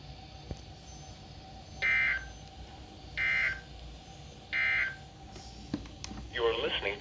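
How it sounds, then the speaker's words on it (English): A lightning detector beeps three times at even intervals, each tone short and high, over a low background hum, with a burst of other noise at the end. "The beeping in the background is my lightning detector."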